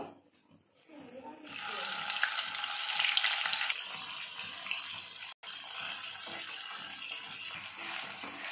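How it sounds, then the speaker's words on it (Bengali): Paneer lightly frying in a pan, a close sizzle that starts after a moment of quiet, swells, then settles into a steady softer crackle with a brief break partway through. "এবার আমি পনিরটা হালকা করে একটু ভেজে নেব।"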